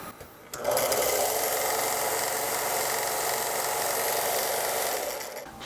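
A Harbor Freight 1" x 30" belt sander switches on after a brief quiet moment and runs with a loud, steady motor whine and belt whir until it begins winding down at the end.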